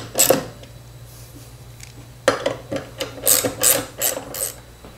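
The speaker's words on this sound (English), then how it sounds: "we can go ahead and lock down these bolts" Bolts being tightened on a miter saw crosscut extension, a series of close, scraping and ratcheting bursts separated by short pauses.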